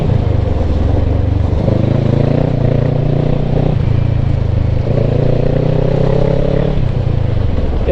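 A motorcycle on new tires rolling along a gravel road, with a loud, steady engine hum whose pitch shifts with throttle over a constant rough tire and wind rush.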